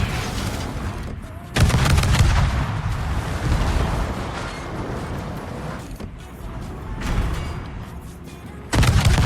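Warship turret guns in a naval battle video game fire in heavy, loud booming blasts, one at the start and another near the end, with rumbling battle noise between.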